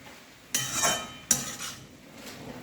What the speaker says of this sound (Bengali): এবারে আমি এই আলু ভাজা আলুটা মিশিয়ে দিচ্ছি, মেথি আলু